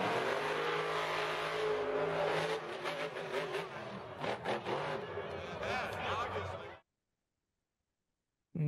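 An engine roaring at wide open throttle from a stuck throttle caused by a wire catching the linkage, loud and steady for several seconds with wavering pitch and voices underneath, then cutting off abruptly into silence.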